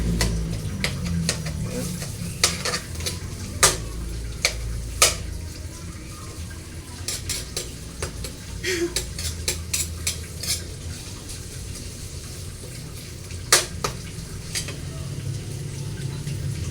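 Onion and garlic sauté in a pan as the base for sautéed sardines, a steady sizzle with scraping stirs and sharp clinks of a utensil against the pan; a voice speaks briefly.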